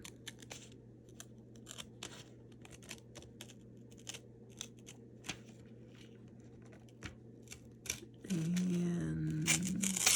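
Material torn by hand while crafting a dragon, giving quiet, irregular crackling snaps and small ripping ticks. Near the end a steady low hum joins in.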